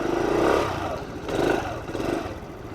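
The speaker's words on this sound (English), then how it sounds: "I'm not actually moving, I'm just spinning the wheel." A Honda CT110 motorcycle on a trail with its rear wheel spinning in place, the engine swelling and easing in two or three revving surges with gritty clatter from the slipping tire.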